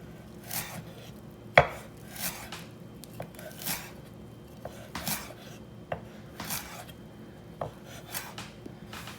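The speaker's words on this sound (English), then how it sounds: "you're just gonna take your knife and have a rocking motion down" Knife rocking through parsley on a cutting board in a kitchen, giving a steady run of soft, crisp chops and scraping taps at an uneven rhythm, close and clear with no talking.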